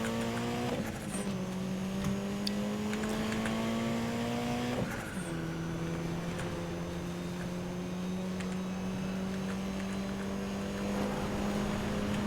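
In the video game Need for Speed: Most Wanted (2012), a car races fast, its engine holding a loud, steady drone broken by two sharp gear-change drops in pitch, with faint clicks and thuds over it.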